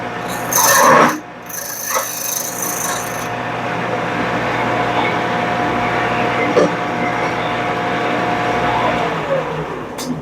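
A parting tool cuts into spinning wood on a Shopsmith Mark lathe, giving a steady rasping, scraping drone with a brief louder burst near the start and a faint motor hum underneath.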